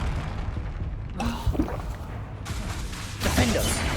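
Spell blasts in the video game Hogwarts Legacy, a few booming magical bursts and whooshes over a low rumbling game soundscape, with a voice calling out spell names between them.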